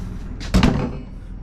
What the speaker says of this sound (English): here's a door for this side, there's a door for that side, and then they close really well